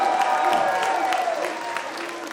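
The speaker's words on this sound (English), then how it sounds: "And you hear the crowd." Crowd at a pro wrestling event applauding and cheering steadily for a couple of seconds, broad and fairly loud, with a commentator's voice running over it.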